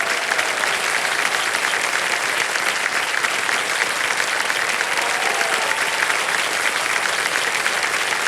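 A studio audience on the KBC TV quiz show claps continuously after a contestant wins a prize, dense and even applause heard close and loud for the whole stretch, with no voices over it.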